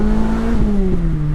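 A Lotus Elise sports car engine revs up and down through a rev-matched downshift, its high, buzzy sport-bike-like tone rising and dipping continuously at close range with no talk over it.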